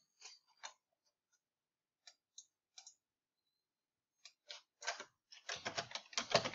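Keyboard shortcuts typed on a computer keyboard, heard as sparse, close clicks of single keys that speed up into a quick, dense burst of typing at the end.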